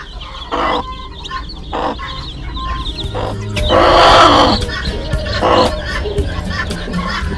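A hen clucking among pecking chicks in a mixed flock of domestic chickens in a farmyard, with bursts of louder clucking and squawks, some chick peeps, and a person speaking intermittently nearby.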